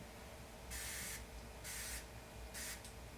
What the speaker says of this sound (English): I'm going to go ahead and spray my brush a little bit more